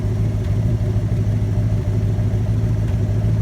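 Car engine running steadily with a cylinder bank showing low exhaust pressure and a suspected head gasket water leak, a close, even idle rumble with slight pulsing and no voices.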